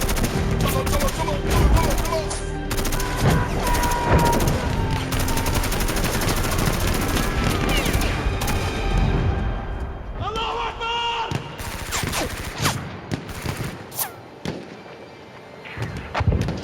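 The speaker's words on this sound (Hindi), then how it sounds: "दूर से गोलियों की आवाज बंद हुई।" Gunfire effects in a Hindi audio drama: dense, loud bursts of automatic fire and scattered shots that thin out and stop partway through, then a few isolated distant cracks, with voices speaking over parts of it.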